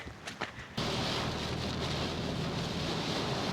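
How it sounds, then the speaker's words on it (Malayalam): Heavy rain starts suddenly after a brief quiet moment with a few soft knocks, then falls as a dense, steady hiss near the microphone, mixed with some wind noise. "മഴ വീണ്ടും ശക്തി പ്രാപിക്കുകയാണ്"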